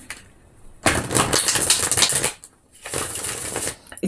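Tarot cards being shuffled make two close bursts of rapid, riffling flutter, each lasting about a second and a half, with a short quiet gap between them and no talking.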